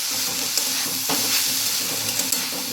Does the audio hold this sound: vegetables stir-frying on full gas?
yes